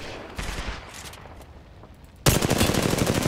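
Rapid automatic gunfire in the video game Apex Legends, a dense burst of shots that erupts loudly near the end after a quieter stretch of scattered distant pops.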